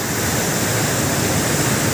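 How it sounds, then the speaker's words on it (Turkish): A waterfall and a fast-flowing river at Samandere in Düzce make a steady, loud, close roar of rushing water that never lets up, with no voices over it. "Nehir bu şekilde coşkun akmaya devam ediyor. Küçük şelaleler de üstün olarak."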